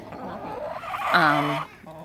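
Hens cluck inside a backyard hen house with chicken wire beneath it, giving short low calls and one louder drawn-out squawk close by.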